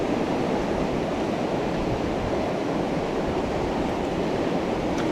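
Fast, heavy river water rushes through a rocky trout stream's pocket water, producing a steady, dense roar of churning current that holds constant throughout, with no voices.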